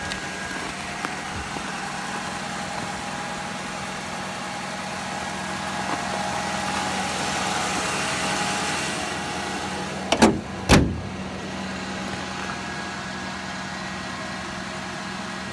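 A 1979 Buick Regal engine idles steadily after a cold start, a constant low, even rumble with two short sharp clicks or knocks near the end.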